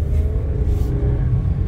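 A tuned Toyota Ayla 1000cc small car engine revs steadily close by, a continuous low rumble with a strong, even drone throughout and no talk.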